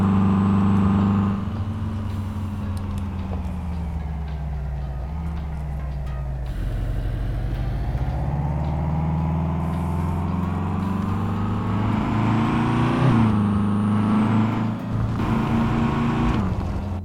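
Renault 9 car engine in Euro Truck Simulator 2, a steady low drone that rises and falls through gear changes as the car accelerates and cruises, loud and alone throughout.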